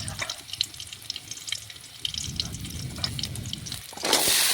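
Cut drumstick, eggplant, carrot and potato drop into hot frying oil for a Bengali shukto, giving a close, steady sizzle and crackle with watery hiss that swells louder near the end.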